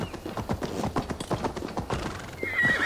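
Horse hooves clip-clop in a quick, steady rhythm, close and fairly loud, with a brief whinny near the end, from Assassin's Creed Valhalla game audio on PS5.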